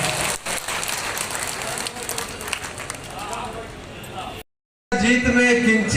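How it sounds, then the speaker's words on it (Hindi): Crowd applause at a BJP party workers' meeting in Biaora, steady dense clapping with voices underneath, a brief cut to silence, then loud clapping resuming. "जोरदार तालियां, एक बार जोरदार तालियां होनी चाहिए।"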